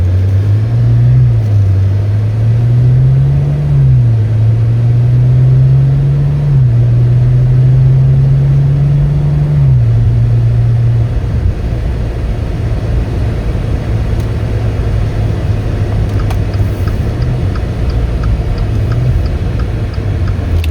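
A 2015 Maserati Ghibli S Q4 AWD sedan with a 3.0-liter twin-turbo V6, driving and accelerating: a steady, loud engine drone that climbs and dips in pitch over several gear changes, then settles into an even cruising hum.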